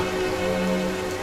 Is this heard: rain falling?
yes